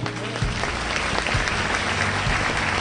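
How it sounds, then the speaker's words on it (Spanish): A church congregation claps loudly and continuously during a Spanish-language prophetic service, a dense steady clatter with some low rumble and faint voices underneath. "Vení acá, aplauda al Señor."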